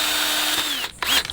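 A power drill bores into ice with a steady, loud high whine and grinding noise, cutting out briefly near the end before spinning up again.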